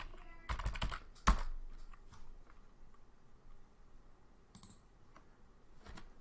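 Quiet, close keystrokes on a computer keyboard, with a quick cluster of clicks early, one sharper tap, and a few scattered presses afterward in an otherwise still room.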